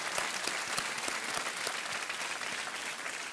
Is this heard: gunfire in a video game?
no